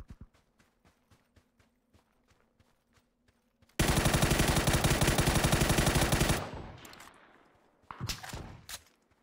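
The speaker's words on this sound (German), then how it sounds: "Der hat auf mich geschossen." Gunfire erupts in PUBG as a sustained, loud automatic burst lasting a couple of seconds, followed by a few sharp, scattered shots. Soft rhythmic footsteps lead into it.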